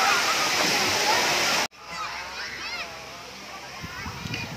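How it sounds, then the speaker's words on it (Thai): Sai Yok Noi waterfall in Kanchanaburi, Thailand: a loud, close rush of falling water that cuts off abruptly after under two seconds, followed by softer, more distant water with people's voices in the background. "ไปถ่ายรูปกับน้ำตกก็เป็นแบบน้ำตกแล้วก็มีน้ำให้เล่นนะคะ"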